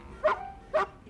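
A dog gives two short, close barks about half a second apart, each a sharp yelping bow-wow, with no talking.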